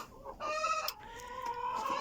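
A hen clucks close by in her own private nest, a short drawn-out series of calls with no other sounds.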